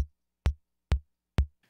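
Four evenly spaced, deep kick drum thumps from an E-mu Emax sampler, each short and punchy with a quick decay, heard alone and fairly quiet.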